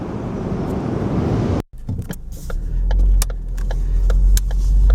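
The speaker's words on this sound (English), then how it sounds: "As you can tell, we're back in the car" Steady engine and road rumble inside a moving car in South Bend, Indiana, with a brief dropout followed by low rumble and scattered interior clicks and thumps.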